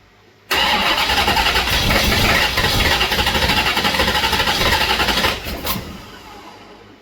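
An engine with a decades-old Holley 670 carburetor cranks and fires abruptly, then settles into a loud, close, steady rumbling idle before the revs drop and fade toward the end.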